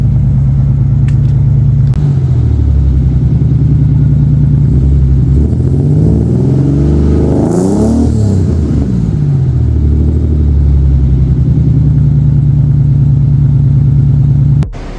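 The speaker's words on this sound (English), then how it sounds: "Give it a couple revs." A car engine idles with a throaty exhaust, then is revved up to a loud peak and falls back to a steady rumbling idle, close up and without voices.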